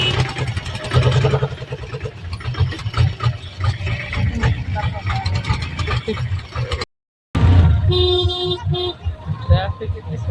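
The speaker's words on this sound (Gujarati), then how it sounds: "ટ્રાફિક બહુ છે અત્યારે" Busy road traffic heard from an auto-rickshaw on the way to a temple, with engines rumbling and horns tooting throughout, a short dropout near seven seconds, and a voice talking over it.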